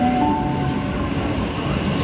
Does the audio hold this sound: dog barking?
no